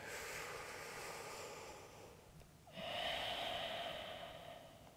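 Slow, deep breathing held during a yoga lunge in a men's full-body workout: a long, airy exhale, a brief pause, then a strong nasal inhale, close and quiet with no talking.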